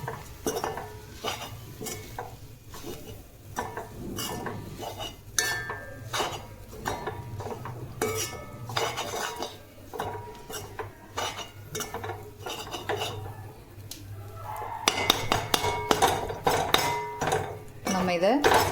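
Chopped chapathi and egg get mixed and chopped in a pan with a metal spatula: busy, repeated scrapes and clinks against the pan, growing sharper and louder toward the end.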